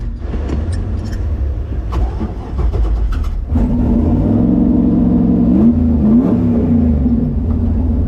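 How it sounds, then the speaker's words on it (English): A drag car waits in line at an open track night before a tire burnout, its engine idling roughly, then stepping up into a loud, sustained rev with rising and falling pitch, close and dominant. "waiting in line, about to pull up, we're about to burn these tires off"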